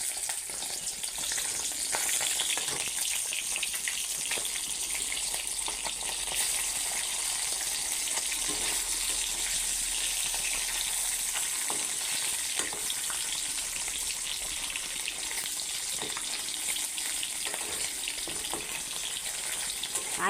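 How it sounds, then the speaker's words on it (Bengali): Boiled eggs and potatoes, lightly salted, fry in hot oil, giving a dense, even crackling sizzle that runs nearby without break for a long stretch, with occasional faint clicks of a utensil and no talking. "তো তেল গরম হয়ে গেছে, আমি এবার এখান ভাজুম"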